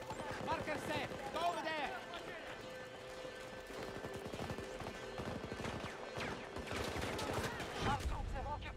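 Rapid gunfire bursts crackle through a Battlefield 2042 match over a dense layer of battlefield noise, with repeated shots at mid distance while a player talks over it.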